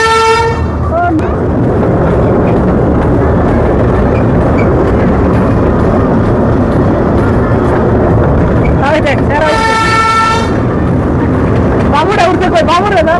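A mini train ride runs at the Fantasy Kingdom amusement park, giving out loud tonal horn toots at the start, midway and near the end over a steady rumbling run. Excited voices talk throughout.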